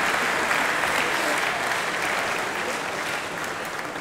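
Sustained audience applause at a master craftsmen's graduation ceremony, dense and even clapping from a large crowd that holds steady throughout without talk.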